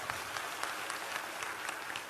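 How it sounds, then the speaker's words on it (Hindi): An audience claps steadily throughout, a dense continuous patter of many hands at even loudness, with no voices over it. "पहले नंबर तो इन्हें ताली बजा के धन्यवाद दो।"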